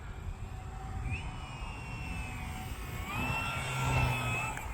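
A Pitts biplane's engine runs at about half throttle during a landing approach, a steady droning hum with rising whining tones, getting louder and rougher toward the end, with no talking.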